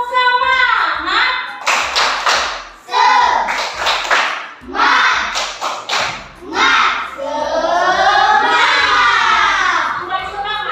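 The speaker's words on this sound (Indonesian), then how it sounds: "Jadi kita tepuk semangat." Children in a classroom perform a rhythmic spirit clap, groups of sharp handclaps and thumps in a patterned beat alternating with chanted group voices, close and loud.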